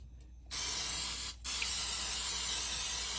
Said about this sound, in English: I'm gonna go ahead and spray these potatoes.